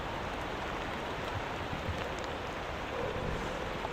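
Steady rain in a trucking video game, a dense, even hiss of falling drops that continues unbroken throughout with no voices.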